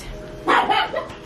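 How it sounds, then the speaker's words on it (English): Dogs bark in a veterinary clinic, two or three close, loud barks in quick succession over a low background hum. "The dogs are barking."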